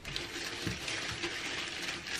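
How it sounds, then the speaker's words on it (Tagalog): Water poured into a flower vase, a steady close splashing gush that runs continuously throughout with a brief heavier splash partway in. "Parang Dagdagan ko pa ng tubig, no?"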